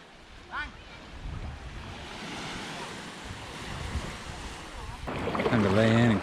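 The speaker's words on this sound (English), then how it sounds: "Now we're coming back out to the beach." Waves wash onto a beach in the Similan Islands, Thailand, a steady surf rush with some wind buffeting, as people speak briefly near the start and more loudly at the end.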